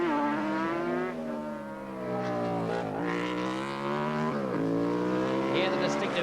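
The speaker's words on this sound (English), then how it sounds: "Hear the distinctive 4-stroke sound of Paul Pavlitic's bike." Paul Pavlitic's four-stroke racing motorcycle roars past during a 1987 Wanganui street race, a loud revving engine with rising and falling pitch across gear changes, with commentary over it.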